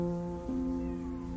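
A cat meows once in the video game Copy Cat, a short tonal call that rises midway and holds steady over low background music, with no voices.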